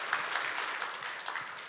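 Brief applause from a church congregation during a Sunday service in Baltimore, honoring a newly baptized member; steady, moderately faint clapping from many hands in a hall, without talk.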